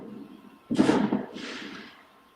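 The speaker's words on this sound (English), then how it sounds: "There's fireworks going on outside, sorry." Fireworks go off outside in a single loud burst, a sharp crack with a short rumbling tail followed by a fainter second pop, heard from indoors and fading within about two seconds.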